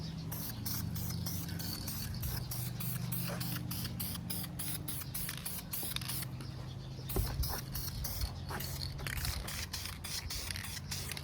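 Aerosol can spraying anodized blue paint onto a plastic valve cover from a 2018-2022 Honda Accord 1.5, steady hissing bursts with brief pauses, close and loud, no talk.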